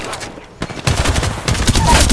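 Rapid automatic gunfire in the video game Apex Legends, loud and dense bursts that crowd the mix, briefly thinning before resuming heavily.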